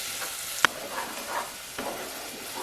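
Oregano and crushed red pepper flakes frying in a pan for chicken Parmesan, a soft steady sizzle with a sharp clink of a utensil and light stirring scrapes, close and without talk.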